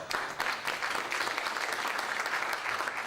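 An audience breaks into applause during a speech at the Facing Tomorrow 2011 conference, a short, steady round of clapping heard up close without talk.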